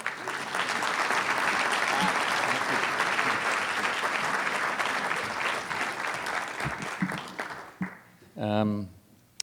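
Sustained applause from a conference audience at the Economic Club of Canada welcoming a speaker as he takes the stage, a dense steady wash of clapping that thins and fades over its last couple of seconds before a brief voice.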